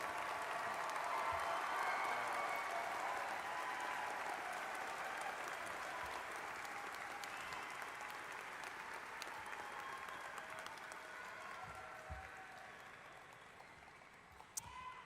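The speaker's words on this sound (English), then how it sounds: "Let's give all of our graduates another round of applause." An audience at the University of New Orleans graduate school commencement applauds its graduates with sustained, dense clapping that stays steady and eases slightly near the end.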